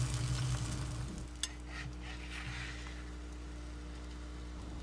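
Beaten egg for a Kolkata egg roll frying on a pan, a steady low sizzle with faint scraping strokes and a soft tap at the end, no voices.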